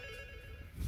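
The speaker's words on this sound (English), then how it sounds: "Phone ringing." A telephone rings with a steady electronic tone, fairly faint and brief, with no one talking over it.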